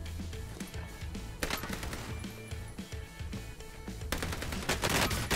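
Rapid bursts of assault rifle fire crackle in Warzone, dense and loud, with brief pauses between volleys and a heavier barrage at the end.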